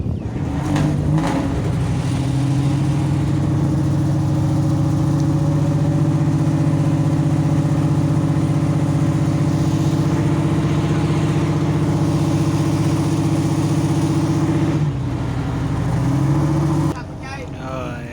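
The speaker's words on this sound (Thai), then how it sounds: "เรือก็ดันเข้าไปครับ" A boat engine on the sea at the Pattani river mouth in the Gulf of Thailand, pushing the boat against the edge of a raft; a steady, loud, close motor drone runs throughout, briefly dipping near the end, with someone talking over it.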